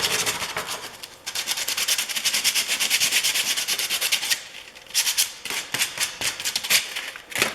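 Steady, raspy sanding strokes rub back and forth on intarsia wood pieces, continuous at first and then breaking into shorter repeated scrapes, close by.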